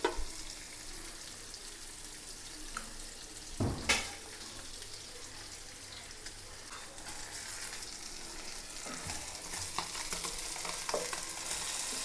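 Pieces frying in a pan sizzle steadily for the whole stretch, with a sharp burst of spattering as something is stirred or turned partway through and light clinks of utensils near the end.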